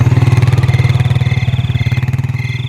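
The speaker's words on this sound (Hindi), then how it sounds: "तभी एक और बाइक सवार पीछे से आया और उसे ओवरटेक करके जा रहा था।" A motorcycle engine drones close and steady with a rapid pulsing beat as it passes and overtakes another rider on a dark road at night, with no voices.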